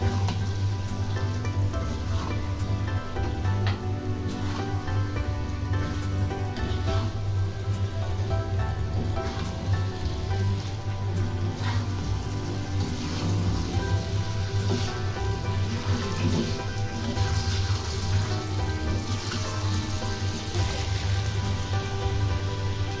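Diced potatoes fry in oil in a pan, giving a dense, even crackle like steady rain that holds close and loud throughout, with no talking.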